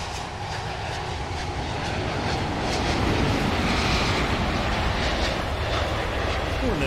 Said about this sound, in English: Freight train as well.